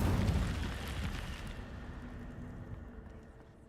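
An Incendio fire spell in Hogwarts Legacy erupts with a loud whooshing, roaring burst that rumbles and then fades over a few seconds, with no talk.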